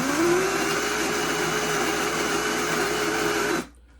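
MOKKOM 64mm burr coffee grinder running with a loud, steady whirring grind that begins with a rising pitch, then holds even for about three and a half seconds before cutting off abruptly.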